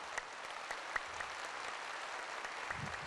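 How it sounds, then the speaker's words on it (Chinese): An audience at a cross-strait peace forum claps in a faint, steady round of applause heard from a distance, the many hands blending into a continuous patter. "大家鼓掌他们"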